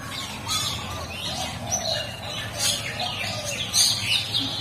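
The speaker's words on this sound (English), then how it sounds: "The bird with the Latin name Geoglia striata is not only a bird that can sing melodiously" Zebra dove (Geopelia striata), kept as an aviary bird, giving repeated soft cooing and trilling calls over a constant background hiss, with a few brighter chirps standing out near the end.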